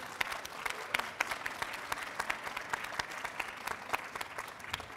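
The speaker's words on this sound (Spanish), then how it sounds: "Bueno, pues un aplauso también, por favor." Applause from the audience at a book presentation for an anthology of women writers at a book and rose festival, a moderately distant, steady patter of many hands with sharper individual claps standing out.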